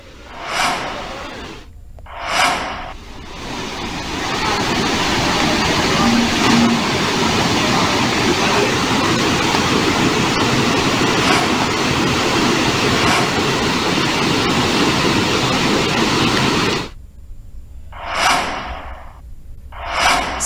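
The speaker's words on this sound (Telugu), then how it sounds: "ఏలూరులో జల్లేరు వాగు పొంగి ప్రవహిస్తుంది" The flooded Jalleru stream in Eluru district rushes and overflows after heavy rain, a loud, continuous roaring torrent that swells in and fades out, with brief whooshing surges at the start and end.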